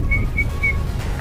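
Someone on board a ship anchored off Singapore whistles a short run of three high, clear notes, close and fairly loud over a low rumbling background.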